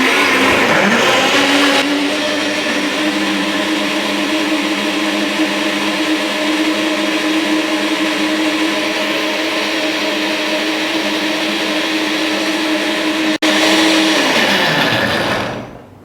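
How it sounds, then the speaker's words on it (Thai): A vacuum blender whirs loudly and steadily at high speed for about fourteen seconds, its motor tone shifting slightly at the start, with a brief click near the end before it winds down and stops. "แล้วปั่นเลย"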